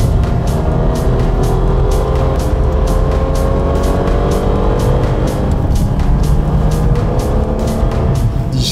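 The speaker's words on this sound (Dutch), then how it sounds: "Scud hoor ik eigenlijk nog boven die 599 nu uit." A Ferrari 430 Scuderia's engine screams alongside a Ferrari 599 at high speed, a loud, steady high-revving roar with layered engine tones and rhythmic pulsing, no voices.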